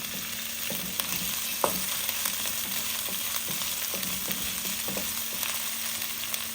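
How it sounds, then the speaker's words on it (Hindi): Crushed garlic and ginger sautéing in hot oil for a dhaba-style daal, giving a steady close sizzle and crackle with occasional stirring scrapes and small pops, no voices. "लहसुन अदरक को 2 मिनट के लिए सौते कर लें।"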